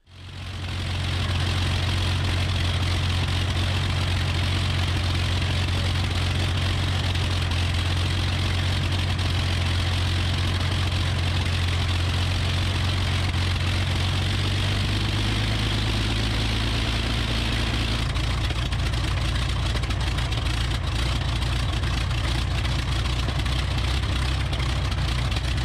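A Rolls-Royce Merlin aircraft piston engine, carburetor fed through a fuel pressure regulator at 1 PSI, runs steadily and loudly at close range, its deep drone shifting pitch slightly partway through with no voices over it.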